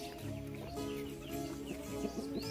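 Hens and a white rooster cluck in a backyard coop, a steady run of short, close calls with no talking.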